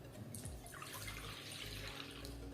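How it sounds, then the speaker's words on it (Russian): Milk pours steadily in a continuous splashing stream for a couple of seconds, close by, while making bread dough. "Я наливаю молоко"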